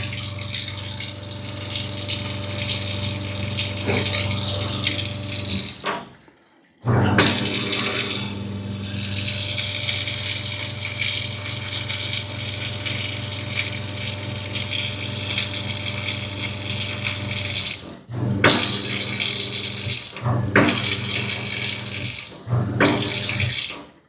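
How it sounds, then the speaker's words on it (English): Water flushes steadily through an on-demand hot water heater during installation, a loud continuous rushing gush that cuts off briefly several times before resuming, with no talking. "Let that flush for a little bit through the heater."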